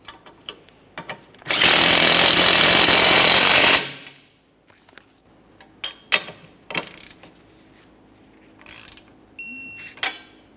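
A power tool whirs loudly for about two seconds, snugging the sway bar link mounting bolt and nut on a 2015-2019 Subaru Outback, followed by scattered sharp metallic clicks and taps.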